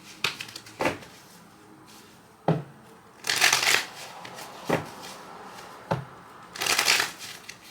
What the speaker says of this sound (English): I'm going to go ahead and do another shuffle.